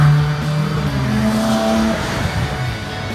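A unique race car passes at a Danish charity race event, its engine note sweeping steadily and loud in the open air, with crowd ambience behind.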